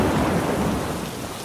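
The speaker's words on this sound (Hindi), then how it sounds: "बहुत जोर से हवा के साथ बारिश होती है" Heavy rain pours down with gusting wind and rumbling thunder, a dense, steady roar of broadband noise holding loud throughout with no voices.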